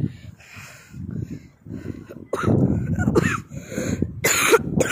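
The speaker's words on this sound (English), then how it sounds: "Because I have a little cough." A small cough from a person in a park, a few short throaty bursts mixed in with quiet talking and outdoor background noise.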